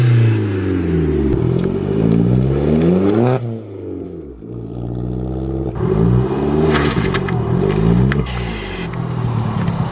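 A loud, close Audi A1 fitted with a Forge Motorsport blow-off valve revs up and down repeatedly, each climb cut by a brief airy whoosh as the throttle drops, with no voices.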